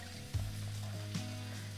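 Vegetable pieces for a summer minestrone soup hit a hot pan, producing a quiet sizzle over a low steady hum, with two small thuds as pieces land.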